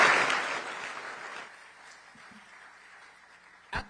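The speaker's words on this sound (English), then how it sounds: "How about a nice round of applause for Royal Hawaiian Band's Glee Club?" Auditorium audience applauding the Royal Hawaiian Band's Glee Club at a State of the City address; a burst of clapping starts loud, fades quickly after a second and leaves a thin tail, ending with a sharp thump.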